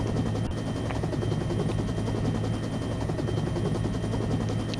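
A video game helicopter armed with gatling guns fires in a dense, continuous rattling stream over the thudding rotor, loud and unbroken as it flies off.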